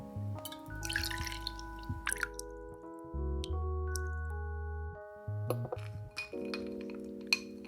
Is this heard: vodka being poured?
yes